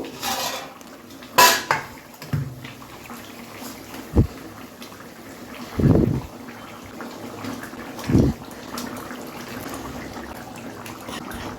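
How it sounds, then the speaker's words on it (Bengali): Fried bhetki fish pieces go one by one into a thickened potato curry in a pan. A few distinct clinks and soft scrapes of a utensil against the pan stand out over a quiet kitchen background, with no talking. "এবার এই ভাজা মাছগুলো আমি আস্তে আস্তে করে দিয়ে দেবো"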